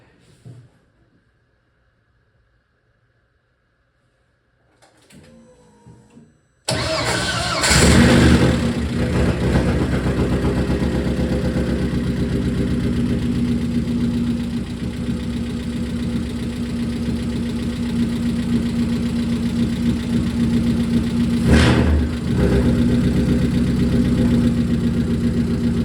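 A rear-wheel-drive Mini fitted with a 1.8T engine is quiet at first, then the engine cranks and catches at about six seconds and settles into a loud, steady idle with a brief rev near twenty-two seconds.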